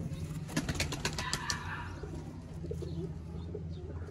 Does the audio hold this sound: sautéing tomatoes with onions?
no